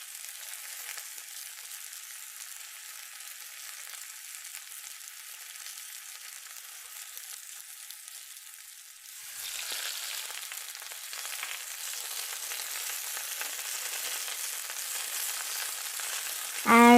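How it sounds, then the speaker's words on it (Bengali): Chickpeas fry with salt, chili and turmeric in a miniature kitchen, a faint steady hiss that grows louder and brighter halfway through and ends in a sudden loud clatter, with no speech. "তো তারপর লবণ, মরিচ, হলুদ যা লাগে সব কিছু দিয়ে বুটটাকে আমি ভেজে নিয়েছি।"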